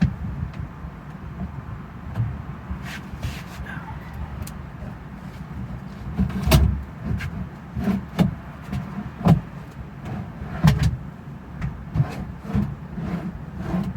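Scraping and rubbing noises from a mechanical part, intermittent sharp knocks and creaks over a low rumbling background, fairly close and uneven in rhythm.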